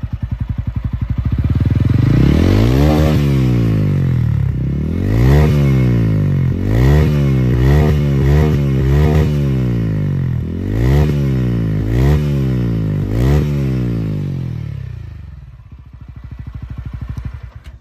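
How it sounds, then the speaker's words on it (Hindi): A TVS Ronin 225cc motorcycle engine revs repeatedly, the exhaust rising and falling in quick blips, loud and close, then settling back toward idle. "तो ये था इसका एग्जॉस्ट साउंड"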